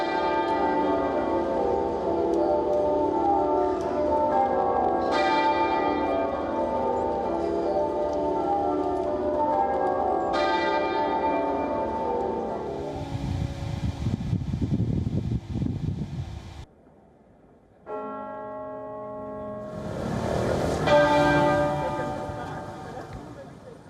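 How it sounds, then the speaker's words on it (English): Several large church bells across the UK ring out in memory of the Queen in overlapping peals, their resonant tones hanging in the air, with a brief lull before the ringing resumes loudly. "Thousands of church bells were rung out across the country in the memory of the Queen."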